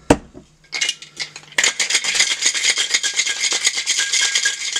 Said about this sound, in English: Just going to give it a quick shake.